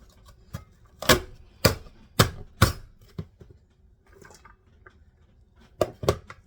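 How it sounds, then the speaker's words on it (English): Knife chopping onions into small pieces on a board for preserving food: sharp, hard taps in two bursts separated by a quiet pause, with a few softer knocks between them. Close by, with no talking. "And I chop up all the onions real small."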